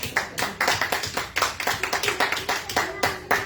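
Congregation clapping in rhythm at a Sunday church service, steady sharp hand claps repeating several times per second, loud and close with no talk over them.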